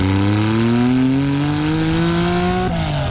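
A 1988 Jaguar XJ220 twin-turbo supercar runs along an open road. Close and loud, the engine climbs smoothly in pitch as it accelerates, then drops sharply at a gear change near the end.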